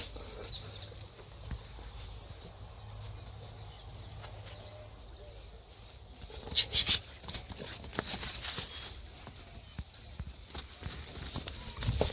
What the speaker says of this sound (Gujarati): ઘોડાને વથી પકડવો પડશે